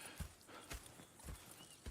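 Horse hooves clip-clop in Red Dead Redemption 2, quiet and evenly spaced, with about four soft thuds in two seconds.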